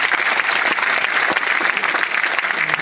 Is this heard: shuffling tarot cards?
no